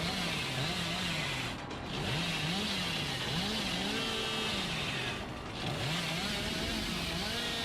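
A chainsaw revs in a video game chase, its buzzing engine rising and falling in repeated pitch swoops with two brief dropouts, steady and loud throughout with no talk over it.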